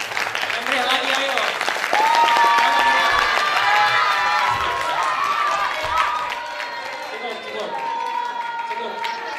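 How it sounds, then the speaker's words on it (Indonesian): Audience clapping and cheering at an entrepreneurship mindset workshop, a lively crowd sound that swells and then eases, with voices and shouts mixed in over the applause. "Ini tepuk tangan juga untuk Bu Desi dan Pak Heru."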